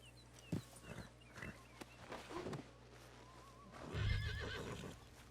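A horse in Red Dead Redemption 2 snorting and whinnying with soft clip-clop of hooves, a fuller neigh rising near the end over quiet game ambience, heard close with no talk.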